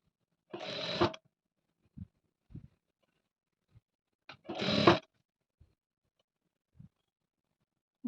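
Sewing machine stitching piping trim, likely at home: two short bursts of stitching about half a second each, separated by quiet gaps with a few faint clicks and handling taps.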